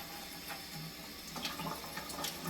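Tap water runs in a faint, steady stream as raw salmon is gently rinsed for homemade sashimi, with a few light clicks and splashes mixed in.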